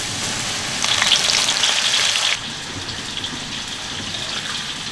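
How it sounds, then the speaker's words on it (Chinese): Starch-coated onions deep-frying over high heat in a wok of hot oil, a bright crackling sizzle that swells louder for a couple of seconds, then settles into a quieter steady bubbling hiss. "一定要大火将那个洋葱炸脆哈，炸熟炸脆就可以捞起来了哈"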